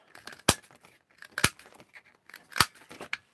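Scissors snip out small paper flowers for cardmaking, three crisp, sharp cuts spaced about a second apart, with soft rustling and paper handling between them, close and quiet.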